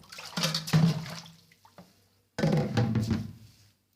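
Tap water running into a bowl being filled for ice in a home kitchen, two bursts of splashing flow separated by a short quiet pause, fairly close and moderately loud.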